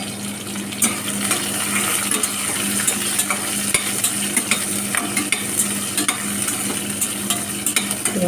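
Onion and green chilli frying in a pan for tuna biryani, with a loud continuous sizzle and frequent light metallic ticks of a spoon against the pan throughout.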